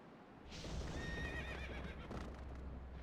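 Ganon's horse in The Legend of Zelda: Twilight Princess lets out a loud whinnying neigh with a wavering, descending pitch, under galloping hoofbeats and rumbling in-game sound.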